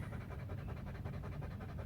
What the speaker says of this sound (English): So I invite you to begin with some breathing